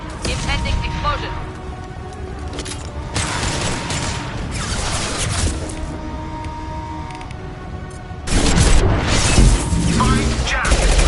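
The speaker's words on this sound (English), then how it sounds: "Impending explosion." A loud explosion surges near the end of continuous video game combat in Mass Effect 2, the steady din of gunfire and mechanisms breaking into a big boom while voices speak over it.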